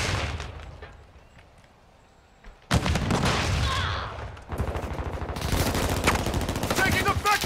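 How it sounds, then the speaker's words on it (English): Gunfire in a Call of Duty: Modern Warfare 2 match: quiet background gives way to a sudden loud burst of rapid shots, then sustained machine-gun fire and fusillades with bright cracks, close and intense, alongside brief voice chatter. "Taking effective fire."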